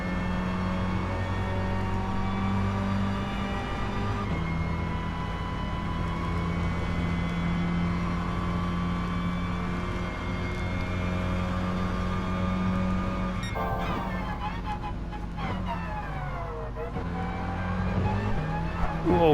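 Mini one-make series race cars at Monza brake and accelerate through a chicane. A steady engine drone gives way to shifting revs as the cars change gear, with a commentator talking over it.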